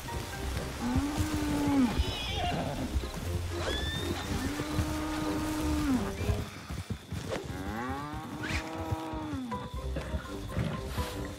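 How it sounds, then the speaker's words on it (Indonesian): Horses in Red Dead Redemption 2 neigh and whinny in several long, drawn-out calls spread across the stretch, loud and close against a busy game background. "Ada kuda lagi."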